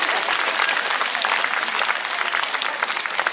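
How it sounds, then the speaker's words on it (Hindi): Loud, dense applause from a crowd at a women's day celebration, continuous close clapping throughout without a break. "जोर से ताली बजा"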